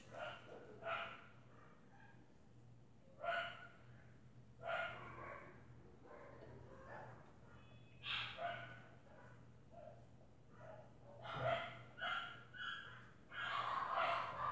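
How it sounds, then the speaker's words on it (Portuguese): Several dogs bark indoors in short bursts spread through the scene, moderately loud against a steady low hum, with no talking between the barks. "esses cachorros latem demais"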